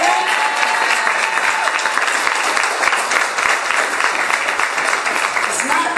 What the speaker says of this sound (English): Can we give her a round of applause for that?